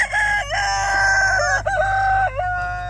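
A rooster crows loudly and close at a farm with many free chickens, ducks, turkeys and guineas. The strong, drawn-out cry comes in several rising and falling bursts over about three seconds against a low background hum.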